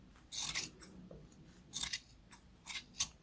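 Scissors snip through crochet yarn loops for a pom pom, three quick close crisp cuts separated by short pauses in a quiet room.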